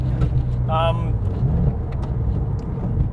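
Porsche 997 GT3 RS engine droning steadily at close range while driving, a low sustained rumble with a brief higher-pitched tone rising over it early on.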